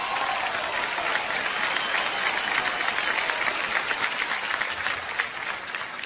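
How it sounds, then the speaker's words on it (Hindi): Loud, sustained applause from an award show audience fills the whole stretch, dense and steady with no gaps and no talk over it. "जावेद साहब के लिए एक बार जोरदार तालियां हो जाएं"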